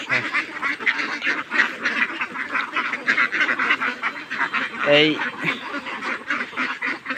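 A flock of ducks quacks continuously and loudly nearby, a busy overlapping chorus with a deeper honk-like call standing out midway.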